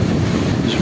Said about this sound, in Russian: Сейчас водой окатит.